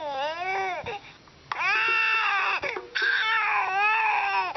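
A baby cries in loud, wailing bursts with a brief pause between them, close and unaccompanied by talk.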